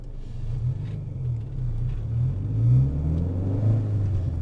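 A 17-year-old Renault Clio 172 Sport pulls away, its engine a steady low rumble heard from inside the car, swelling a little mid-way as it gathers speed, with no talk.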